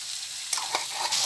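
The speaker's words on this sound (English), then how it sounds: "So give it a good stir and mix them all up" Rice stirred in a pan after hot water goes in, a soft hiss with a few quick scraping strokes near the end, close and moderately quiet.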